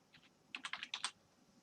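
Quick bursts of typing on a computer keyboard while logging into a web page, a short pause of a few taps followed by a denser run of keystrokes, close and fairly quiet with no talking.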